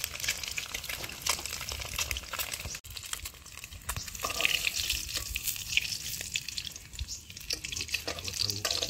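Onions and bay leaf frying in a pan, a steady close sizzle with crackles and small pops throughout, loud against a quiet background.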